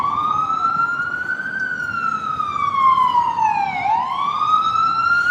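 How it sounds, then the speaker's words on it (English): A loud emergency siren wails up and down, close by on a New York City street, with steady traffic rumble beneath it. "Got the sirens blaring."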